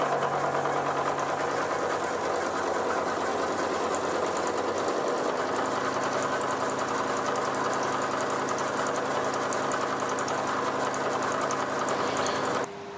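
A new milling cutter takes 0.25 finishing cuts in metal at 3 millimetres depth. It makes a steady, loud mechanical whir with a slightly rough, buzzing texture that runs continuously before easing off at the very end.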